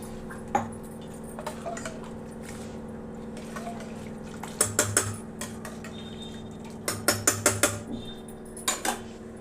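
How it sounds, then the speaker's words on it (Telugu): Metal clinks and taps from a cooking pot of dal with tomatoes as a lid goes on, scattered sharp clatters in small clusters over a quiet kitchen hum. "టమాటా వేసి మూత పెట్టేసేయాలి"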